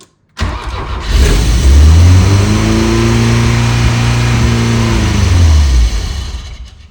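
A Volkswagen Scirocco engine fires up, then revs hard and climbs to a high, steady roar that holds for several seconds before easing back down, loud and close with no talking.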